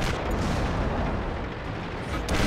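Tank cannon fire in the World of Tanks video game: a dense, sustained roar of booming gunfire that fills the whole moment at steady loudness, with no voices.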